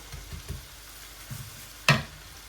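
Onion and cabbage sizzle softly in a pan while a spoon stirs them, giving a few scraping strokes and a sharp, louder clatter near the end, with no talking.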